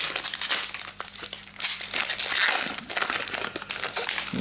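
A foil Magic: The Gathering Ixalan booster pack being torn open and handled up close, giving a busy, continuous crinkling and crumpling of foil wrapper with irregular sharp rustles throughout.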